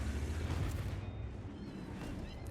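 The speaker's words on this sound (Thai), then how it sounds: "แพนเทอร์ระเบิดไปเช่นกันครับ" Panther tank blowing up in the video game World of Tanks: a dull, rumbling explosion with low crackling debris, fairly faint and continuous across the short stretch.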